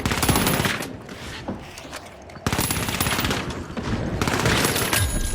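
Rapid automatic gunfire from the video game The Finals rattles in dense bursts, pausing briefly before resuming hard, close and loud.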